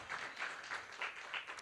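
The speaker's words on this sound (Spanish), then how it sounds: "Démosle un aplauso a Cristo" A church congregation claps in a faint, loose patter of soft hand claps that continues evenly, with no voices.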